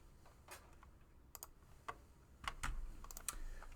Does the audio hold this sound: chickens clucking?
no